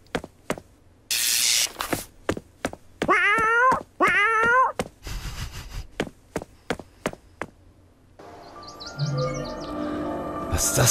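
A cat sleeping on a couch in the video game Dreamscapes: The Sandman gives two short meows in quick succession, set among sharp clicking sounds and other quiet game effects.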